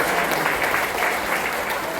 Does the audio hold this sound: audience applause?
yes